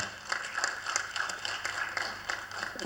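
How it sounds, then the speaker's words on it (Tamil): An audience at a Tamil film event claps in a faint, quick, even rhythm of repeated hand claps that keeps going throughout. "ஒரு தடவை நம்ம எல்லோரும் கைத்தட்டிடுவோம்"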